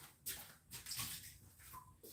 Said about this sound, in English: Let me pour this out.